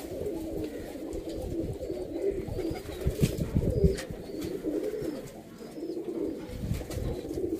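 Teddy pigeons cooing in a Sialkot pigeon loft, with a steady, low, throaty coo from several birds close by that continues without a break.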